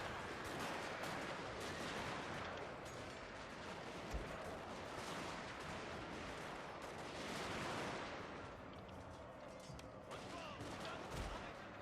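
Battle gunfire in a Total War game, a dense continuous roar of distant massed musketry and shots at low volume, with no clear individual reports standing out.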